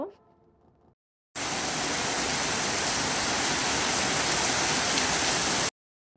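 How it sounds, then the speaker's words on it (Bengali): Rain falling outside during a heavy downpour, a loud, dense and even hiss that starts abruptly and runs steadily for several seconds, preceded by a brief faint voice. "বাইরে কিন্তু ধারে বৃষ্টি হচ্ছে"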